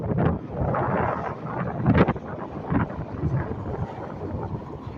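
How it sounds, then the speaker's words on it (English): Strong wind gusting across an open spot in California's San Joaquin Valley in summer, a steady roaring buffet against the microphone with a louder surge near the two-second mark and no voices. "we haven't had wind like this in San Joaquin Valley in a long time"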